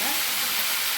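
Tamarind water hits a hot pan and sizzles in a dense, continuous hiss, loud and close, for about a second with no pause.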